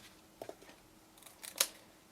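Scissors snip off paper tabs while a slimline fold-flat box is made, several faint, crisp cuts close by, two quick ones early and a sharper cluster later, in a quiet room without talk.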